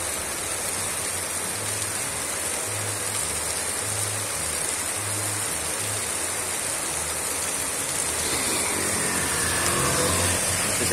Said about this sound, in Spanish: Fuerte aguacero azota al sur de la ciudad de Cali,